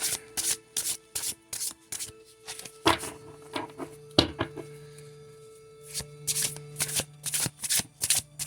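A deck of oracle cards is shuffled by hand in quick bursts of riffling and sliding, close and crisp, with short pauses between rounds.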